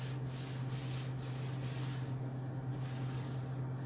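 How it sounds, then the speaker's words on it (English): A cloth rubs cleaner off painted wood in steady, soft back-and-forth wiping strokes, close and quiet over a constant low electrical hum, with no talking. "Just wiping it."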